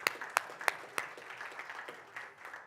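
A conference audience at an opening session in Toronto claps and cheers, starting with a few sharp separate claps that blend into steady moderate applause.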